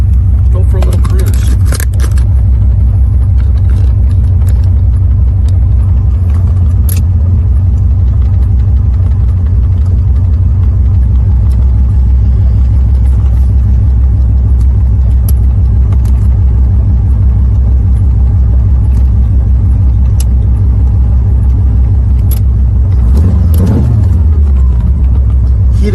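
A muscle car with a 4-speed L48 engine on a cruise gives off a loud, steady low rumble throughout, with a few clicks and rattles and a swell near the end.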